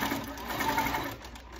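A sewing machine stitches across a chenille quilt in a short steady whirring burst of rapid needle strokes, close and fairly quiet, with no talk.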